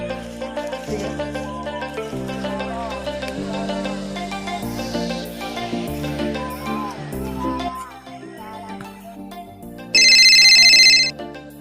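A mobile phone ringtone plays while calling a friend: a looping melodic tune with a sharper high-pitched tone near the end, steady and fairly loud.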